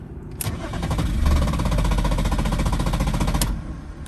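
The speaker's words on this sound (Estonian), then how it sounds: "üritasin autot käivitada ja ta ketras, kuid käima enam ei läinud" A BMW engine cranks in a parking lot, the starter churning rhythmically for about three seconds without catching, framed by a brief click at the start and another at the end.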